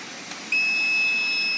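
A steady high-pitched multimeter continuity beep starts abruptly and holds continuously over a faint background hum.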